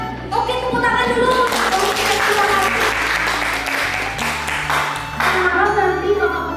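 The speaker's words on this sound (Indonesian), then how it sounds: "Oke, tepuk tangan dulu." A crowd at an Indonesian vasectomy family-planning information session claps steadily for about six seconds, a dense, close burst of applause with a low tonal hum running beneath it and some voices mixed in.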